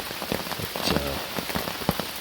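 Steady rain patters on a hammock camp at night during a stormy Labor Day weekend, a dense close hiss of drops with occasional heavier taps.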